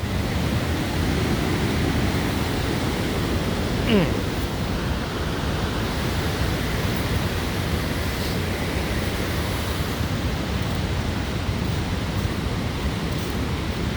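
Fast, powerful water of the Niagara River rushes past Goat Island, a loud, steady broadband roar that stays constant and close throughout.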